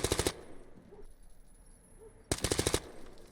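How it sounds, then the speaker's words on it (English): Rapid bursts of automatic gunfire in a competitive shooter match, one loud burst opening and another after a quiet stretch of faint background game noise, both close and sharp. "the C4 just exploded before he even pushed in"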